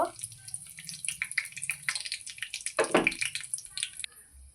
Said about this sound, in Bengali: এবার আমি এতে শুকনো লঙ্কা 3টে ছিঁড়ে দিয়ে দেব। তেজপাতা দিয়ে দেব